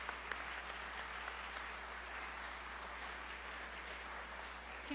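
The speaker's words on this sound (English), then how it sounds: "Give yourselves a round of applause." Sustained audience applause fills a hall at an education department recognition ceremony honoring elementary education candidates, an even, steady wash of clapping from many hands with no voices over it.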